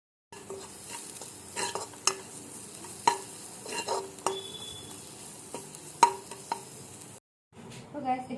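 Vegetables with cumin and coriander powder sizzle and fry in a pan while a utensil stirs and scrapes against the metal in repeated sharp knocks, close up and fairly quiet.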